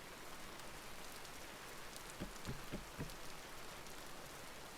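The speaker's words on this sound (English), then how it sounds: "I think this place here is safe from rain." Steady rain falls in the survival game Vintage Story, a dense even hiss running through the whole stretch, with a few soft low thumps near the middle.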